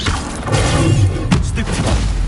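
Casting the Incendio fire spell in Hogwarts Legacy produces a loud, dense burst with a deep rumbling boom and crackling roar that fills the short moment without pause.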